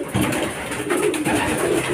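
Racing pigeons coo in soft, repeated throaty phrases close by, a few overlapping birds murmuring in short rolling bursts.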